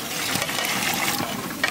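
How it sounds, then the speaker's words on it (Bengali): Water poured into a pot of mutton curry with cooked-down potatoes, a brief close gushing splash that stays steady and fairly loud throughout. "দে ভাই একটু জল দি দে"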